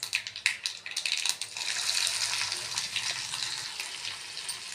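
Sliced onions dropped into oil with mustard seeds, cumin and a dried red chilli tempering for dal: a few sharp crackling bursts at first, then a steady, moderately quiet sizzle with no talking.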